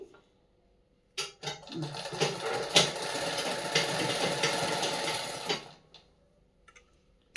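An electric sewing machine stitches a saree fall, a rapid mechanical whirring and ticking that starts abruptly, runs steadily for about four seconds close by, then stops.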